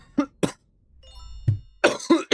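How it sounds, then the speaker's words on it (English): Several harsh, rough coughs from a sick streamer during a ranked Rainbow Six Siege session: two quick bursts, a pause with faint background hum, then a heavier run of three close, loud coughs. "Y'all will be hearing me cough like a bitch."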